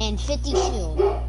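A dog barks a few times close by, short yipping bursts mixed in with a person talking during a video game session.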